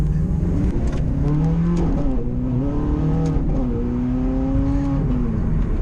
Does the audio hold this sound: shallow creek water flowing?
no